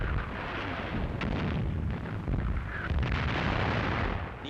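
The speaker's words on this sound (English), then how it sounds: "Die Granaten der feindlichen Artillerie schlagen zwischen den vorgehenden Verbänden ein" Enemy artillery shells exploding among advancing troops in a wartime newsreel from Operation Barbarossa; a dense, continuous roar of blasts and rumble, loud and unbroken throughout, with no speech.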